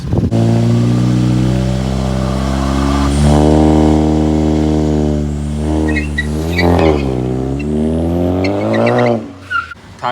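Volkswagen car launching with tires spinning, a loud close engine revving hard with rising pitch, then easing and climbing again, with tire noise and a skidding edge near the end.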